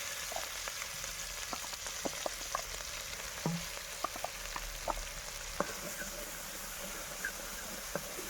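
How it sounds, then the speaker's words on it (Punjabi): Finely ground tadka paste for a Punjabi-style paneer and capsicum sabzi roasting again in a pan, a steady soft sizzle with scattered small pops and crackles throughout. "ਇਹਨੂੰ ਆਪਾਂ ਹਲਕਾ ਜਿਹਾ ਦੁਬਾਰਾ ਰੋਸਟ ਕਰ ਲਵਾਂਗੇ"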